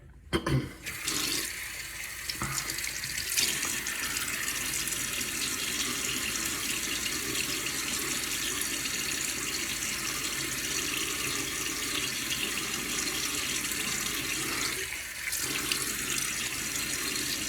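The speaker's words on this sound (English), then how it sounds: "let me get my face wet." A bathroom tap runs steadily at a sink for a while as a face is wetted before a shave, with faint splashes and a brief break in the flow near the end.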